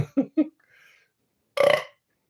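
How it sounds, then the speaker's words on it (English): A few short voiced croaks followed by one loud, drawn-out burp, close and unaccompanied, with brief silences between. "Yeah, that was a beer burp."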